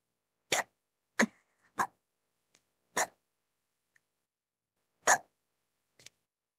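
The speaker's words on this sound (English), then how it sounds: "Looks like it's already starting." Six sharp hiccups come from a woman at her computer after a few sips of a drink, close and clear, spaced unevenly with quiet gaps in between.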